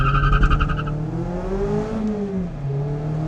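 Mazda ND Miata RF accelerating through gears one to four, heard from inside, with an engine note that climbs in pitch, drops at each shift and climbs again, steady and fairly loud with no talk.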